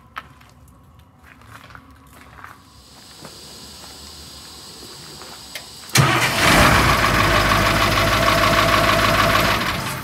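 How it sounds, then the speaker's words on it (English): Bus engine with a newly installed starter is quiet at first with faint clicks and hiss, then cranks and abruptly fires at about six seconds into a loud, steady roaring idle. "The starter is all installed. And I'm just seconds away from firing this thing up."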